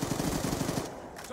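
Rapid automatic gunfire in Black Ops 2, a close, dense stream of shots for most of a second that then stops abruptly into quiet game ambience.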